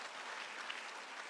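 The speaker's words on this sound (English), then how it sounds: "Big round of applause, right?" A convention audience applauds from a distance, a brief, faint, even wash of clapping with no voices standing out.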